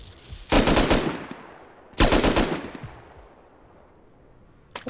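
Two loud bursts of rapid automatic gunfire in the video game Rust, each crackling volley lasting about a second, followed by fading reverberant tails and a sharp single shot at the very end.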